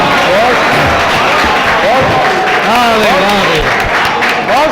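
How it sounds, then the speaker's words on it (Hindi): Mushaira audience applauding a poet's recited verse, clapping under loud overlapping voices and calls of appreciation from the crowd throughout. "जोरदार तालियां"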